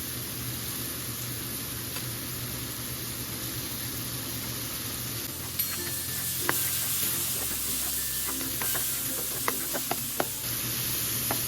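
Shrimp sizzle steadily in a hot pan with fish sauce, a constant loud frying hiss with a few light clinks and stirring taps of a utensil against the pan partway through.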